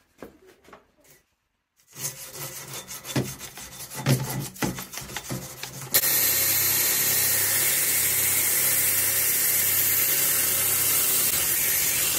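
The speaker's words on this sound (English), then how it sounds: "I need to give this thing a going over with the wire wheel" A wire wheel scours a freshly forged solid steel knife, starting as intermittent rasping scrapes, then settling into a loud, steady, harsh grinding whir that runs on without a break.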